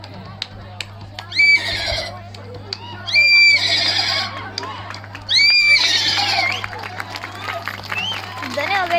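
A person imitates a horse, producing three loud whinnying neighs spaced a couple of seconds apart with clip-clop galloping sounds in between, close to a microphone over a steady low hum, as a crowd reacts in the background.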